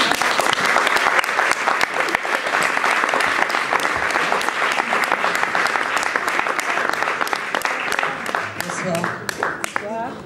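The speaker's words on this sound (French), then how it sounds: "Veuillez s'il vous plaît faire une ovation à Mag" Audience applause and ovation greeting a slam poet at a slam poetry stage night: dense, loud clapping throughout, tapering toward the end as a voice begins.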